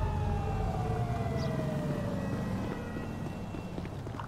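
A police siren in the video game GTA V wails faintly with a falling tone beneath a steady, loud engine rumble.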